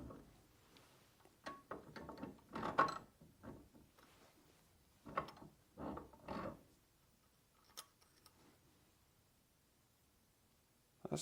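A vise being cranked down on a plastic part of a Schrade push-button pocket knife, heard as a series of close, irregular metallic clicks and ratcheting scrapes in short bursts with quiet gaps.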